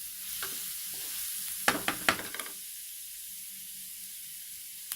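Ingredients for spaghetti bolognese fry in a pan until soft, giving a steady close sizzle broken by a few sharp stirring clatters near the middle, then settling back into an even hiss.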